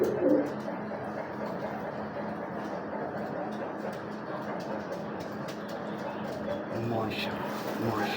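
Pure-bred breeder pigeons coo softly in a loft, low repeated murmuring calls under steady background noise, with a few sharper bird sounds scattered throughout.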